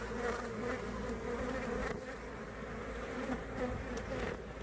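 Honey bees swarm around a hive frame of capped honey and brood, a continuous close buzzing drone with individual bees flicking past, no talk.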